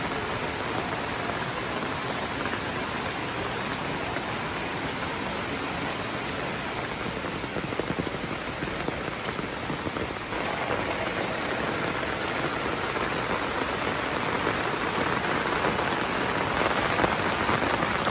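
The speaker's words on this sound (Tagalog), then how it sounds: "kahit malakas ang ulan" Heavy rain pours steadily outside a function hall, a dense, constant hiss of drops that stays loud and unbroken throughout, with no voices.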